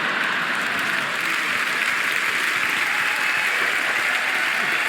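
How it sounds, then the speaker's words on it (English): Audience applause at a George Carlin stand-up comedy show, a thick, continuous wash of many hands clapping, loud and even throughout with no talk over it. "Everyone's clapping, so I feel like I have"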